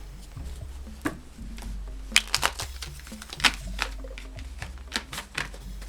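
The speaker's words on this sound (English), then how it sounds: "I'm gonna have to shuffle." Tarot cards are shuffled close up in a quiet room, giving a run of crisp, uneven slaps and riffles with no talking.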